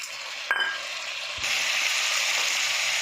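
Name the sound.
tomatoes added to a hot frying pan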